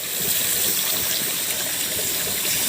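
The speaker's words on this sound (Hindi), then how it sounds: "ये अभी पानी दे रहा हूँ गाइस," Outdoors in a jungle setting, water is poured into a cooking pot, making a loud, steady gushing splash that fills the whole moment without pause.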